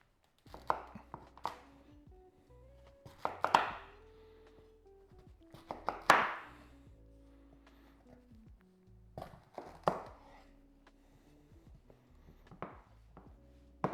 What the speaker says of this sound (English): I cut it into about 1-inch cylinders